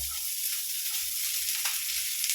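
Loud, constant hissing sizzle of spices tempering in hot oil for a cowpea curry, close up, with faint low stirring thumps underneath.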